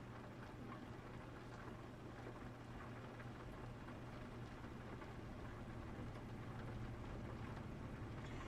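Steady rain with low rumbling thunder during a storm in Euro Truck Simulator 2, a continuous wash of rainfall and a droning low hum running throughout, fairly quiet and even.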